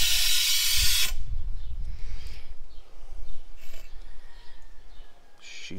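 Air hisses loudly from an OEM Tools coolant system refiller kit as its valves are opened, a strong broadband burst for about a second that cuts off abruptly, leaving quiet low rumbling and faint handling noises.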